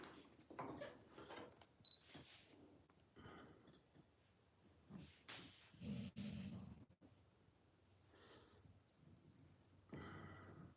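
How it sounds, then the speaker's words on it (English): A dog indoors snorts and pants in short, irregular bursts with quiet gaps between them, close but faint, alongside a few soft clicks. "If you hear that noise, that is my dog."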